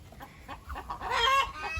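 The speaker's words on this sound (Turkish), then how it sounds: "Bu senin civcivlerinden arkadaşlar." Chickens clucking in a hot-weather coop, a few soft, close clucks and short calls scattered over a couple of seconds, fairly faint, with no talking.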